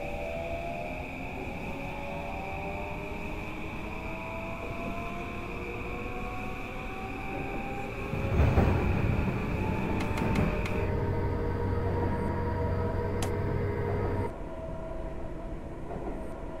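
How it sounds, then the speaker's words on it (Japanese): A JR E235-1000 series electric train on Sobu and Narita Line rapid service, simulated in the BVE5 train game, runs with a continuous motor whine whose tones glide up and down, swelling into a louder rumble midway before settling again. "This is a Narita line train for Narita Airport."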